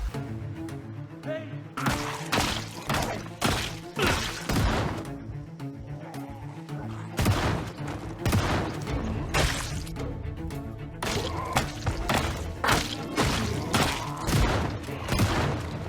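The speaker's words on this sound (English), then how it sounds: "I'm really loving this shotgun right now." A shotgun in Project Zomboid blasts repeatedly at a zombie horde in a parking lot, loud booming shots in rapid bursts with thuds and impacts between them.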